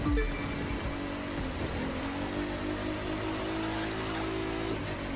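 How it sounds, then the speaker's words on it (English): A race car in The Crew 2 accelerates hard on nitro boost, its engine roaring loud and steady in a sustained high drone with a rising pitch, alone without speech. "Now I'm gonna have to kick up the nitro and gonna have to go for lap number 2"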